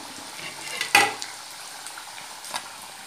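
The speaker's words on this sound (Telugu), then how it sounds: "చామగడ్డలు ఈ విధంగా వేగనిచ్చే వరకు ఉంచుకోవాలి" Taro root pieces fry in a pan with a soft, even sizzle, one sharp clatter of a utensil near the start and a lighter knock later; close up, no speech.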